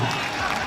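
Dense crowd applause rises at a kabaddi match at the Griffith Shaheedi Tournament in Australia, a loud continuous wash of clapping with voices mixed in throughout the brief moment.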